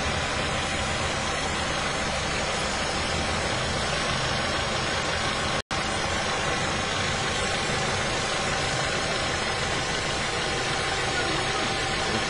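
A car engine said to run on hydrogen and oxygen made from water idles steadily, a constant rough mechanical hum that stays loud and even, broken once by a very brief dropout.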